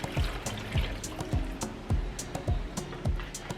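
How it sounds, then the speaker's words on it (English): Water poured from a cup into a blender holding chopped papaya, a steady close splashing trickle with a faint hum and light clinks underneath. "I'm going to add in 1 cup of water."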